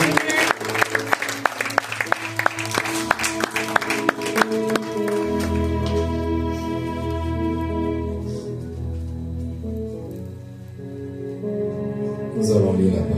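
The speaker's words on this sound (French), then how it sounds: "you understood, clap your hands for the Lord." A church congregation claps in a burst of dense applause during a bilingual French and English service, fading into music with voices over it.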